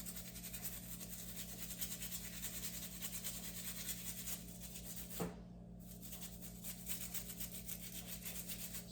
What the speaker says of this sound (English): Really scrub my hand. Just wash myself with soap.